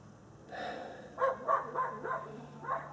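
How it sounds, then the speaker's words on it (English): Dogs barking outdoors, heard through open windows during hot weather: a series of about five distant, faint barks in a loose rhythm over a low steady background hum. "I've got the windows open so you can hear some dogs barking"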